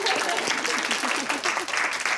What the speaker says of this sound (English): we'll give her a clap, why not?